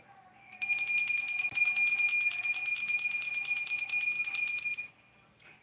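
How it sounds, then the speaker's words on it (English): A hand bell rings steadily alongside a struck singing bowl, a bright shimmering metallic tone sustained for about four seconds with sharp onset, then fading quickly, close and loud with no talk. "We're going to ring the bell and hit the singing bowl a few times."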